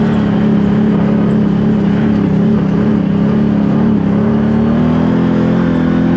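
A Can-Am Maverick Turbo side-by-side drones steadily while driving in mud, its low engine hum loud and continuous with a slight rise in pitch toward the end.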